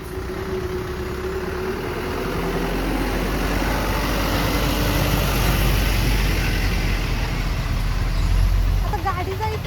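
Trucks and a state transport bus sit jammed in traffic on a narrow road, engines rumbling low and steady close by, with a brief chirp near the end.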